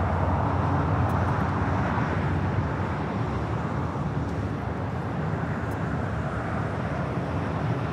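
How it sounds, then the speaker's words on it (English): A United Boeing 777-200 bound for Honolulu takes off at LAX, its engines a broad, steady roar that stays loud throughout with no voices over it. "Next takeoff is that United 777-200 heading to Honolulu."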